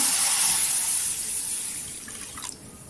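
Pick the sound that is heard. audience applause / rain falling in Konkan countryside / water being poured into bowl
water being poured into bowl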